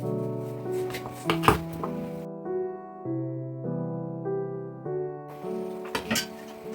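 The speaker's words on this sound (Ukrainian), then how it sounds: "а чесничок дрібно нарізаємо." A knife finely chopping garlic on a board, a few sharp taps clustered near the start and again near the end, over steady background music.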